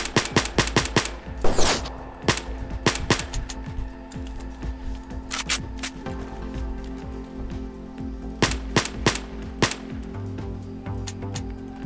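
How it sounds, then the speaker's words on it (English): Gunfire in the video game S.T.A.L.K.E.R. Anomaly: repeated sharp shots, some in rapid bursts and others single, with a low steady ambient hum beneath and no talking. "I can't see the guy that's shooting at me either."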